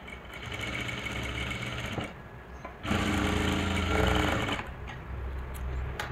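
A sewing machine stitches a lehenga blouse in a boutique, its motor whirring close and continuous with a rapid needle rhythm, easing slightly in two brief dips between runs.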